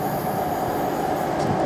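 An intermodal freight train hauled by class 92 and class 66 locomotives passing at Stafford, a loud, close, continuous roar of wagons and wheels on rails with a faint squeal, no speech.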